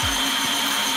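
A dish-washing aid buzzes as it rotates a plate with ultrasonic vibration, giving a steady, close electric hum with a soft rhythmic whirr throughout.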